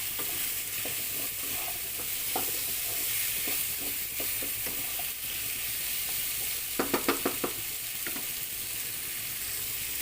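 Ingredients for beef afritada sauté in a pan, a steady close sizzle broken by scraping stir strokes and a quick run of light utensil taps.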